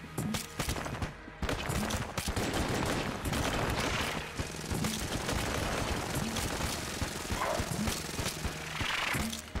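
Rapid, dense gunfire from the modded video game Enter the Gungeon rattles on without letting up for nearly ten seconds, loud and close, with scattered sharper shots over the continuous volley.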